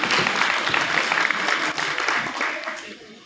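A brief burst of clapping from a Teachers Day gathering, dense at first and tapering off after a couple of seconds, with voices mixed in.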